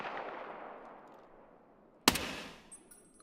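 A single sharp gunshot from an AI scav in Escape From Tarkov, cracking out fairly close after a fading rumble, with a short ringing tail.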